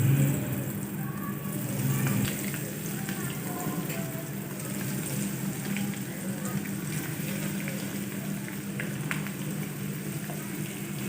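Potato-stuffed bread rolls frying in hot oil, a steady dense hiss and crackle of bubbling oil with faint sputters throughout.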